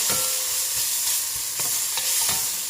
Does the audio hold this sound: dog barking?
no